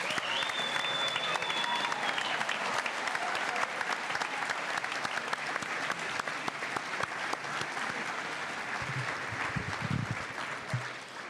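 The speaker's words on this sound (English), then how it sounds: "Let's give all these students one more big round of applause." Long, sustained applause from a crowd in the stands for students at a high school Honors Night, a dense, continuous roar of clapping with a brief whistle-like tone early on and faint low murmurs near the end.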